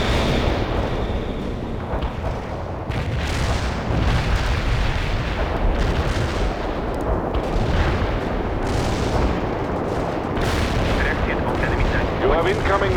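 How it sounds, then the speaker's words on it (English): Heavy artillery barrage in the World in Conflict video game, a dense, continuous rumble of booming shell impacts and explosions, loud and sustained, with some voice chatter mixed in. "We can deploy and lay down a heavy barrage."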